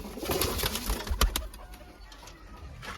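Breeding pigeons coo softly and repeatedly at close range in a loft, with a faint rustle and flutter of wings.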